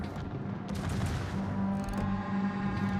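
Burst fire from the guns of the Spanish premium cruiser Numancia in a naval warfare video game, loud overlapping booms and rumbling salvos with mechanical hum running underneath.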